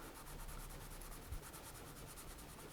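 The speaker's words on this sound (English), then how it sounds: "just very quickly give it a light sanding pass" Soft, rapid back-and-forth rubbing of light sanding on a plastic model joint, quiet and steady throughout.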